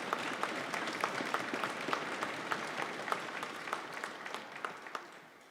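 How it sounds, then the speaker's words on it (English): Faint, distant applause from an audience at a school strings celebration, a steady patter of many hands clapping that thins out toward the end. "I just want to give them a round of applause and thank you for all that they do to support our program."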